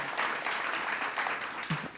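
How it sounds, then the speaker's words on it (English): Audience applause at a business talk on Latino entrepreneurship fills two seconds as steady, moderately loud clapping, heard from within the room. "I think there's some applause there"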